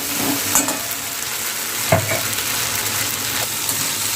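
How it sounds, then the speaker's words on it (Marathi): A crispy potato pakoda mixture is stirred in a pan, with soft scraping and frying sizzle running steadily throughout and a couple of sharper clinks near the start and middle. "चांगले असे मिक्स करून घ्या"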